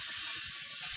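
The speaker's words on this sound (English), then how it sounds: "I like to put a generous coating of cooking spray on the pan." A steady, continuous hiss of Pam cooking spray from an aerosol can onto a pan, close and even, lasting about a second with no pauses.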